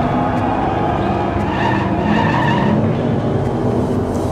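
Hot Wheels, Majorette and Matchbox toy cars, including a Renault, an Austin, a Miura and a Gallardo, race down a track with a loud, continuous rolling whir and rumble that swells and fades slightly as they pass.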